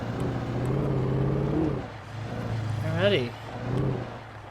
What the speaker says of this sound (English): I am driving a truck, so we're gonna probably be forced to use lower gears on ourselves here.